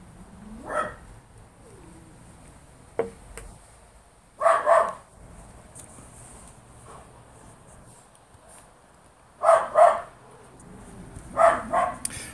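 A couple of neighbours' dogs barking at a distance, three short bursts of barks spaced several seconds apart over a quiet background hum.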